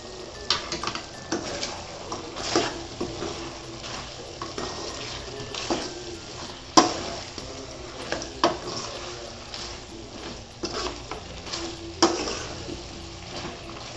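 Chicken coated in masala of coriander powder and garam masala frying in oil, soft crackling and sizzling under repeated clinks and scrapes of a spoon stirring the pan, close by, with no talking.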